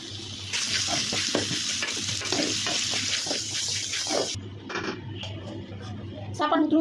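Raw mango pieces hit a hot tempering of onion, salt and pepper in a pan, giving a bright sizzle and the scrape of stirring that drops away after a few seconds into quieter clinks and rustles.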